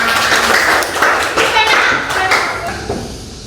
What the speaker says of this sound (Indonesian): Nah, oke, tepuk tangan untuk kita semua.